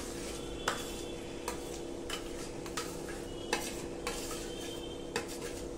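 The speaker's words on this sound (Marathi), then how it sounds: "हे मस्तपैकी आता छान हलवून घ्यायचंय आपल्याला" Mashed eggplant bharit being stirred in a pan, a soft continuous sizzle punctuated by regular light scrapes and taps of a spoon roughly every half second.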